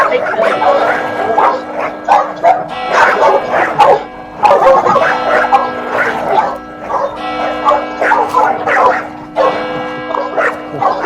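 A dog on a theatre stage during a performance of Shakespeare's The Winter's Tale, barking and yipping repeatedly in short bursts throughout, mixed with actors talking and ambient stage noise.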